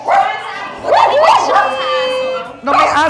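Dogs bark and yip excitedly close by, mixed with people talking over them.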